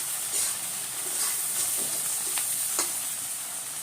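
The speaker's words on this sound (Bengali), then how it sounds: "পেঁয়াজটা ভালো করে ভেজে নেব।" Onion frying in a pan hisses steadily and close by, with occasional short scrapes and taps of a spatula stirring through it.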